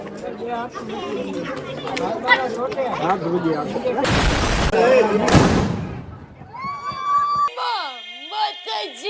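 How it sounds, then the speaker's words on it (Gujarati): Two loud crackling bursts of Diwali firecrackers go off in quick succession amid chattering voices, followed by whistling, tonal sounds. "તો ભાઈ હવે અમારા વિનીતભાઈ ફટાકડા ફોડશે."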